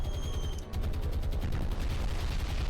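Bombs and gunfire in the War on the Sea video game during a Malta defense battle, a dense continuous roar of rapid gunfire and booming explosions, loud and sustained throughout.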